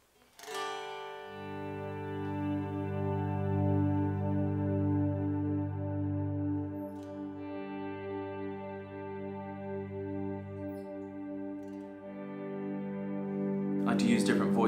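Sustained electric guitar chords swell in slowly and ring out with a long, washy reverb tail from an effects loop, fading gradually before another swell rises at the end.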